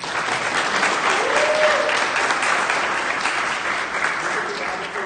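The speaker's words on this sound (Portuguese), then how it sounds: "vamos só um salve de palmas para o pessoal do podcast." Audience at a software testing meetup applauding podcast guests: steady, dense clapping from a crowd, loud and continuous across the whole stretch, with no let-up and a faint voice briefly heard beneath it.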